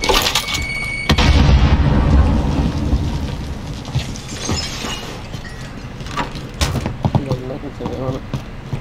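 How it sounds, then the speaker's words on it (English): A grenade blows up in an online shooter game with a deep, booming burst that swells about a second in and rolls on for several seconds under scattered gunfire, game effects and voices. "Throwing grenade."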